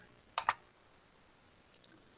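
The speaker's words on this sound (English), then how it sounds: "I am clicking login for net banking." Mouse clicks while logging in to a bank website: a quick pair of sharp, quiet clicks, then a lone click a little over a second later, with near silence between.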